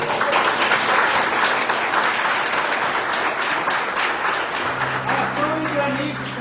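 A church congregation applauds in a dense, sustained wave of clapping throughout, with a voice speaking over it and a tonal chord entering near the end.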